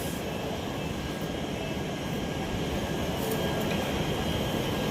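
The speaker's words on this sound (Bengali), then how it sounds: "এখন চলেছি সোনার নগরী সুপারফাস্ট এক্সপ্রেস ধরে জয়সালমীর টু যোধপুরের উদ্দেশ্যে।" Steady, loud rumbling roar inside the Sonar Nagari superfast express train running from Jaisalmer to Jodhpur in Rajasthan, a continuous broadband drone with no pauses.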